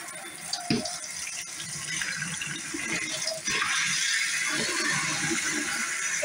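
Hot water runs steadily from a kitchen sink tap into a drain, a continuous broad splashing gush with a brief rattle early on that grows slightly louder partway through, no voices.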